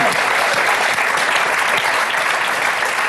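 Steady, dense applause from a television studio audience fills the whole stretch, loud and continuous with no voices on top.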